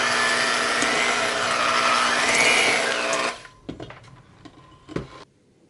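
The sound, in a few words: mixer mixing cheesecake batter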